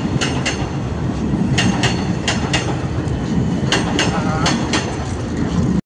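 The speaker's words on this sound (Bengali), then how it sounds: "আর এখন দেখো মেট্রো ঢুকছে।" A metro train pulls into New Garia station in Kolkata, with a steady loud rumble and the rhythmic clack of wheels over rail joints running throughout before it cuts off abruptly.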